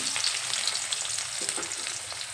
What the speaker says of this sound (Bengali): পেঁয়াজ দিয়ে একটু নেড়ে চেড়ে নেব পেঁয়াজ তেলের সঙ্গে খুব ভালোভাবে মিশিয়ে নেব